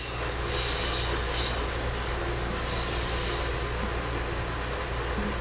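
Loud, steady broadband rumble with low droning tones, a long container train rolling past close by at Horseshoe Curve, Pennsylvania, without a break.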